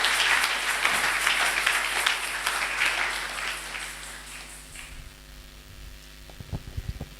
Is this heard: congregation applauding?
yes